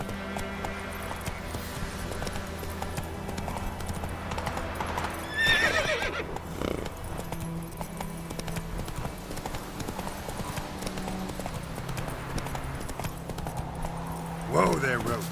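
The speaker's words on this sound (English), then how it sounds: "Whoa there, Roach" Horse hooves clip-clop steadily through the open world of The Witcher 3, with whinnies and neighs breaking out near the middle and end over game music and a speaking voice.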